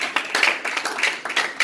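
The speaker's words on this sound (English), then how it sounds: "Let's clap the hand as we come." An audience claps continuously to welcome a guest speaker at a talk show, with a dense, steady patter of many hands close by.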